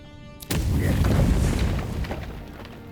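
In the video game Avowed, a wall blows apart with a sudden deep boom followed by a rumbling, crumbling roar that fades over about two seconds.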